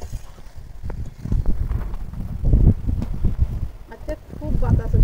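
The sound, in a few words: strong wind blowing outdoors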